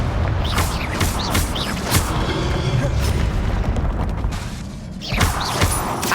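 Repeated spell blasts booming and thudding in the video game Hogwarts Legacy, the Confringo fire curse bursting several times over a dense, continuous game soundscape with a voice calling out spell names.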